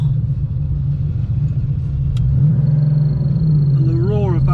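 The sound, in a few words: Porsche 911 rear engine roar while driving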